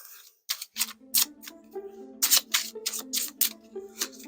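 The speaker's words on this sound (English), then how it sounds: "So I'm going to go ahead and shuffle these real quick." A deck of board-game playing cards is shuffled by hand, giving quick crisp riffles and slaps in an uneven rhythm, close to the microphone with no talking.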